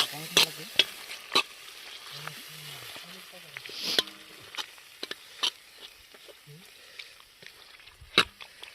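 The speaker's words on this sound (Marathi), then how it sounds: "कोथिंबीर जरा मिक्स करून" Chicken sizzles gently in a pan while coriander is stirred in, a spoon scraping and clinking against the metal several times.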